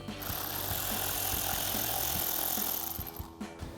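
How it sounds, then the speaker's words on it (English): Power ratchet driving a 7mm socket to remove a lower screw on a Sierra 1500 pickup, a steady close whirring buzz with faint rhythmic ticks, cutting off near the end. "I'm going to start with a 7mm socket to remove the lower screw"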